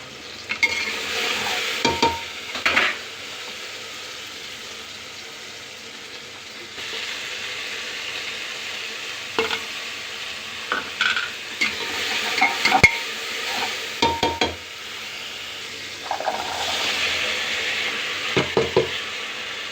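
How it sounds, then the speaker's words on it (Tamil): Spices being tempered in oil in a pan for brinji rice: a steady close sizzle of frying, broken by occasional scrapes and clinks of a spoon stirring against the pan. "பிரிஞ்சி சாதம் தான் தாளிச்சிட்ருக்கேன்."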